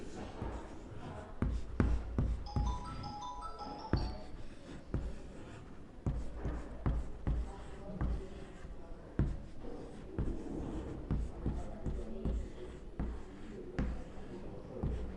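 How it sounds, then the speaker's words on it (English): Pen or marker scratching steadily across a board or paper as math examples are written out by hand, a near, continuous stream of short strokes and taps, with faint talk in places. "I will write some examples like"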